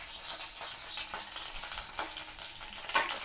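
Bay leaves fry in two to three spoons of hot oil for a paneer curry, giving a steady close sizzle with crackling pops and occasional stirring scrapes, without speech.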